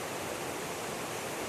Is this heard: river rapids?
yes